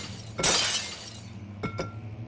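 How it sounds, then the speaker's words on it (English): Glass shatters loudly in the video game Amnesia: The Dark Descent, a sharp bright crash that fades out, followed by two quick clinks of falling shards over a faint low hum. "break the glass again"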